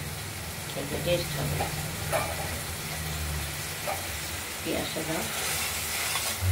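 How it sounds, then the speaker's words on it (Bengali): Black cumin seeds sizzle in oil left from frying fish, a steady crackling hiss with occasional stirring scrapes in the pan, close and continuous. "কালো জিরে দিয়ে দিলাম। ওই মাছের তেলেই ভাজা হবে"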